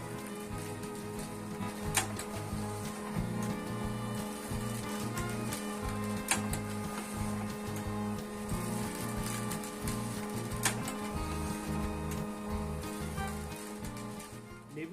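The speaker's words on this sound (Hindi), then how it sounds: "इनका मैं प्रिंट आउट निकाल लेता हूँ।" A printer runs Flipkart shipping labels, giving a steady mechanical hum with repeating pulses and a few sharp clicks, close and constant throughout.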